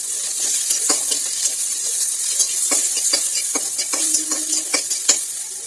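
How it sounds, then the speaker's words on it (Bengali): Chopped onions and green chillies fry in a pan, making a bright continuous sizzle close up, broken by several short scraping and tapping strokes from a stirring spatula. "কাঁচা লঙ্কা দেওয়ার পর আমরা এতে দিচ্ছি পেঁয়াজ কুচি। পেঁয়াজ কুচি দেওয়ার পর আমরা এটাকে 1 মিনিট রান্না করব।"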